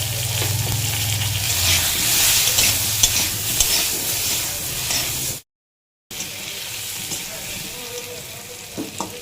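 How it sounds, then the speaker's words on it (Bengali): Pointed gourd (potol) seasoned with salt and turmeric fries in a pan, giving a steady sizzle with scraping stir strokes and brief clinks, then a short break before quieter frying sounds resume. "এবার পটলগুলো ভাজা হয়ে গেছে তুলে নেব"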